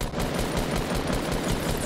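Rapid, close gunfire bursts in Fortnite Battle Royale, a dense loud rattle of automatic shots filling the whole moment with no speech.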